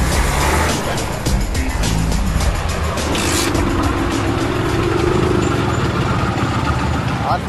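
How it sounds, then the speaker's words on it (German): A 1978 East German Simson moped with a faulty brake and a homemade licence plate and trailer runs at a traffic check, its engine putting along steadily beneath dense background noise and faint voices. "Ein 78er Simpson-Moped aus DDR-Produktion."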